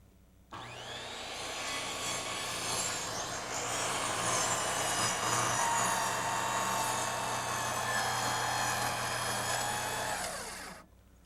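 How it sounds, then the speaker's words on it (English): A power circular saw rips lengthwise through deck lumber at full blade depth, one loud, steady, high whine that rises as the blade enters the board, holds for about ten seconds alone and spins down at the end. "Then reset the blade to full depth for the rip cuts."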